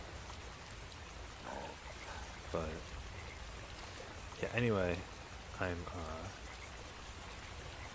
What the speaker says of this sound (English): just playing like some raindrops in the background